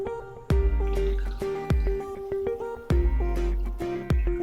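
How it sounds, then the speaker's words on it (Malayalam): Soda pours into a glass in repeated short bursts with sharp splashes and fizzing, close up, with no talking. "എന്നിട്ട് അതിലേക്ക് സോഡ ഒഴിക്കണം."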